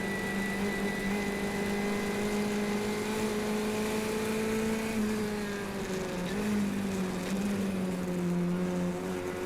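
A Formula 1600 race car engine at Mont Tremblant drones loudly and steadily, its pitch sagging and rising as the driver downshifts through a corner, with a continuous close onboard roar throughout.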